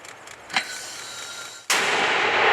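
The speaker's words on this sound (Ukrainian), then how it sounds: "Постріл. Плюс постріл." A gunshot cracks out at a Ukrainian front-line position, followed by a long rushing roar that continues to the end. A faint sharp report comes just before it.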